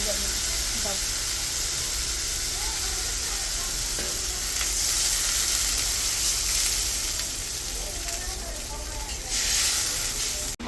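Water poured onto hot, oil-released fried spice paste in a pan while cooking patshak and koi fish curry, bursting into a loud steady sizzle and hiss that swells midway and again near the end, with faint voices in the background.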